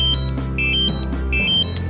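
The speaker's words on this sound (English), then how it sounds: "So my controller started beeping like this." Short high-pitched electronic beeps from a DJI Mavic Air drone controller that will not stop beeping repeat in small clusters over a steady low hum, close by.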